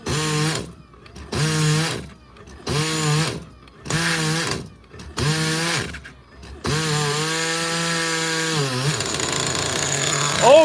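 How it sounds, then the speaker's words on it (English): A nitro RC car engine, close and loud, revs in a series of short buzzing bursts with brief gaps, then settles into a continuous high-pitched running drone. "Finally, the Nitro is a runner."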